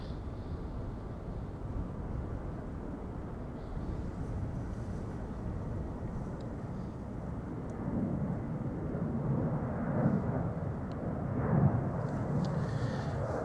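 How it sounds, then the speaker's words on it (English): A six-year-old easyJet Airbus A320neo jet departs Amsterdam Schiphol airport on a flight to Southend. Its engines make a steady, broad roar that builds slowly and swells louder toward the end, with no voices heard. "And this is EasyJet flight 27985 to Southend. That's an A320 Neo."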